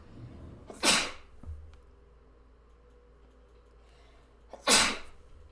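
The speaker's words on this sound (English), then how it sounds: "Oh my gosh, I have to sneeze." Two sharp sneezes from one person, spaced a few seconds apart, close and fairly loud against a quiet room with faint ticking in the background.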